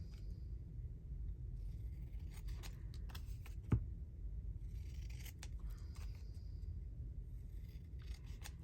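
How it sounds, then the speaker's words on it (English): Paper being trimmed with scissors, heard as a handful of sharp, close snips and rustles scattered over a quiet, low indoor hum. "Trim and fold in half."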